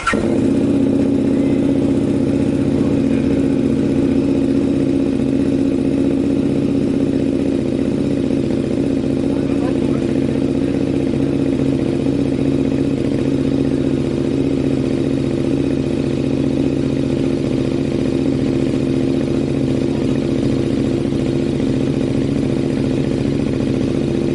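A new KTM motorcycle engine idles steadily while warming up, a loud, continuous near mechanical drone with a faint clattering texture throughout and no distinct revs.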